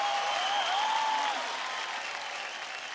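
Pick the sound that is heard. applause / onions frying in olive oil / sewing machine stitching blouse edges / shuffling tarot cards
applause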